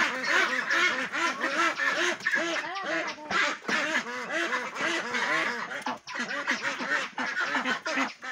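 A crowded flock of Pekin Star 13 ducks quacks nonstop at close range, a dense overlapping chorus of harsh nasal calls with brief lulls, loud and busy throughout.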